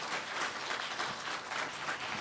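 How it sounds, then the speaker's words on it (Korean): Audience at a regional agricultural forum applauds warmly after a lecture, a steady, even wash of many hands clapping at moderate distance, unbroken for a couple of seconds with no talk over it. "다시 한번 뜨거운 박수 보내주시기 바랍니다."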